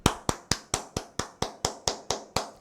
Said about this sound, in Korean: 우리 한번 박수 한번 칠게요